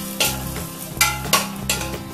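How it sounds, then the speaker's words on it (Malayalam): Ginger sautéing in coconut oil in a pan sizzles steadily while a spoon stirs it in repeated scraping strokes about every half second, close and clear with no talk. "ഒരു 1/2 ടേബിൾ സ്പൂൺ കൂടെ വെളിച്ചെണ്ണ ഒഴിക്കാം നമുക്ക്. എന്നിട്ട് 2-3 മിനിറ്റും കൂടെ ഒന്ന് വഴറ്റിയെടുക്കാം."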